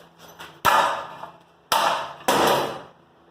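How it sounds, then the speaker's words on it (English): A hammer strikes a nail joint made by battery arc welding, three sharp metallic blows with a short ringing decay after each, near and loud, plus a faint tap before the first blow. "Try the old hammer test."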